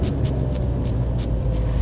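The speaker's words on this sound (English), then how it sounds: "Holy moly, that has got to be one of the best sounding cars that I've ever heard." 2024 Alfa Romeo Stelvio Quadrifoglio with its Ferrari-derived twin-turbo V6, a steady loud low rumble that holds across the whole stretch, with breathy bursts recurring at a regular pace.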